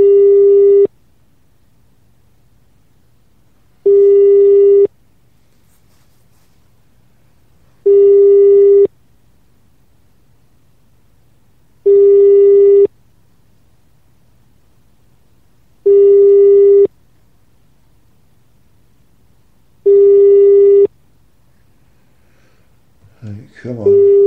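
Telephone busy signal: a steady tone pulsing in regular beeps about every four seconds, loud and clear, with a faint noise at the very end.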